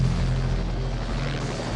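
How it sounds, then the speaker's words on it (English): Helicopters flying over snowy mountains in the opening shot of The Thing (1982), a steady low rotor and engine drone holding level throughout with no voices. "the first shot, which is the helicopters flying over the mountains"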